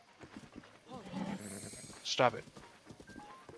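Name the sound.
horse hooves in video game Zelda Breath of the Wild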